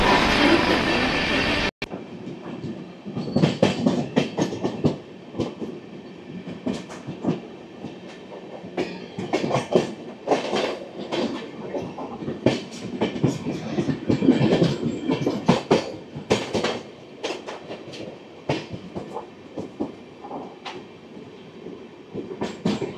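The Kanchanjunga Express on the Sealdah–Sabroom route runs loudly along the rails in a continuous rumble, with rhythmic clickety-clack wheel beats, rattling carriages and occasional squeals throughout.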